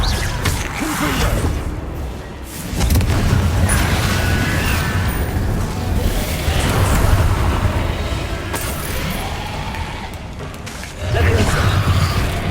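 Confringo fire spell explosions in Hogwarts Legacy: repeated booming bursts and whooshes with a rumbling low end, the loudest near the start and end, over continuous game background noise.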